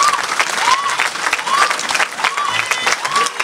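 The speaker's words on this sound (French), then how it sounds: "On acclame Jésus-Christ de Nazareth." A church congregation applauding loudly and continuously, dense clapping from a large crowd with voices and cheers mixed in.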